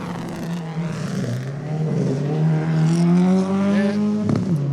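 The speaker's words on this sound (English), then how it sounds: "Let's watch with interest here as the car approaches us now." A Subaru rally car approaches and passes on a gravel stage at a Queensland rally, its engine loud and near, rising in pitch as it revs and sweeps by.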